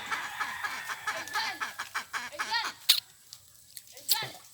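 A chicken on a farm clucks in short, bright bursts close by. The calls mix with children's chatter and laughter, and two sharp squawks stand out near the end.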